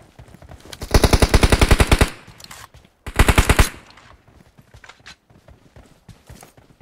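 Rapid bursts of gunfire from a PUBG Mobile match on an iPad, with two loud strings of evenly spaced shots, the first about a second long and the second shorter, followed by scattered quieter clicks and thuds.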